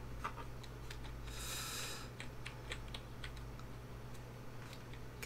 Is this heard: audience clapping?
no